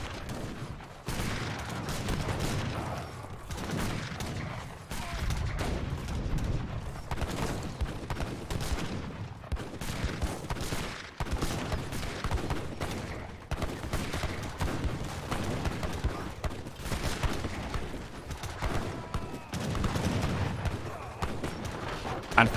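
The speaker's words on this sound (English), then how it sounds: "Is there any more satisfying to watch than watching units fly from the cannon volleys?" Massed cannon volleys roar through a large-scale video game battle in a royal clan free-for-all event, a dense, continuous barrage of booming gunfire with overlapping blasts, while commentators talk over it.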